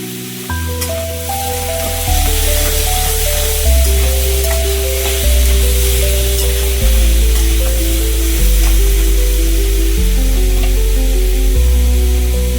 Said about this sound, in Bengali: সামান্য লবণ দিয়ে এবার আমি এটাকে একটু নাড়াচাড়া করে নেব